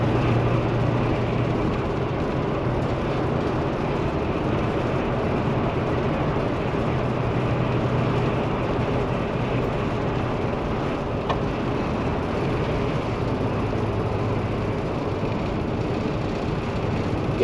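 2016 Coachmen Leprechaun 260RS Class C motorhome cruising on an interstate, a constant low road and engine drone with steady cabin rumble, unbroken and unvoiced throughout.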